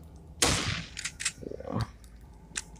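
Gunfire in the Zombie Evil Horror 4 video game: one loud sharp shot followed by a few quicker smaller bangs and clicks, close and brief, with no talking.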